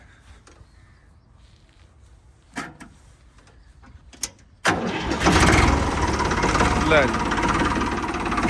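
A Ford 3600 tractor engine cranks and catches partway through, then settles into a loud, steady diesel idle close by; someone speaks briefly and a few clicks and knocks come before the start.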